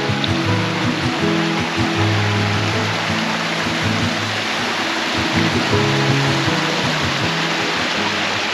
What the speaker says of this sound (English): there's a few more little spots with waterfalls on the way down the hill